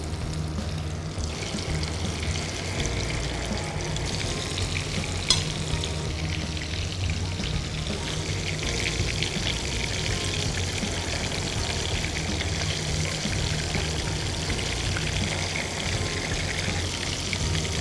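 Tempura prawns frying in hot oil give a steady, dense sizzle that runs unbroken from start to finish, close and fairly loud, with no voices over it.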